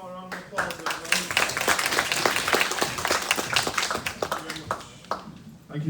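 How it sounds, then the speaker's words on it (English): An audience applauds after a presentation, brisk clapping from a room of people that rises quickly and holds at a moderate level, with a voice speaking over it near the end. "One more round of applause, everybody."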